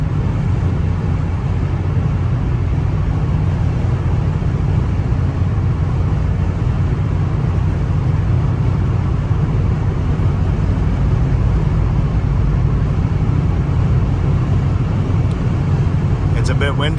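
Interior of a 2000 Toyota Camry LE on a windy day, with a loud steady low road rumble and wind rush filling the cabin throughout the drive while someone talks over it.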